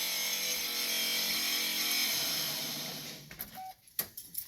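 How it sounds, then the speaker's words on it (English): A noisy power steering pump runs on a Subaru with an LS engine swap, giving a steady broadband grinding whine that holds loud and constant before dropping away into a few scattered clicks and knocks near the end. "Pump sounds terrible, but it does work."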